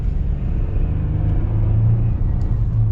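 A 2021 Ford F-150 STX pickup accelerates with a loud, deep engine rumble that swells steadily over a few seconds, heard from inside the cab with no talking.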